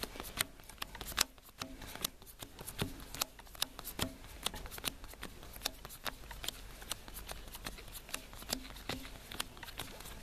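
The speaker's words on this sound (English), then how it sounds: "I'm just gonna shuffle in front of the camera" A deck of trading cards is shuffled by hand, a long run of quick crisp riffling snaps and flicks repeating rhythmically, close and fairly quiet.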